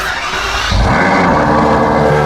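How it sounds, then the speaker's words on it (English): A Ferrari 812 with a valved exhaust cold-starts: after a brief low crank, a loud, dense roar surges up and holds as a high, steady idle, very close. "Cold start."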